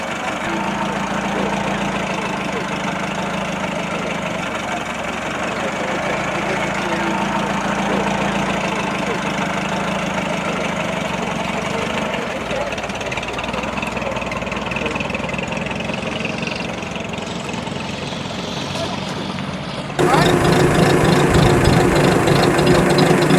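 The engine of a 1931 MG M-type, an Abingdon works car with a Jarvis body and a three-speed gearbox, runs with a steady low throbbing rumble. Near the end it turns louder and harsher, as if heard from closer.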